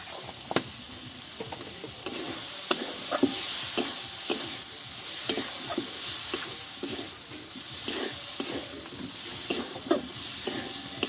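Spices fry with soybean chunks and cauliflower stems in a pan, a soft continuous sizzle broken by repeated scraping stir strokes, close and fairly quiet.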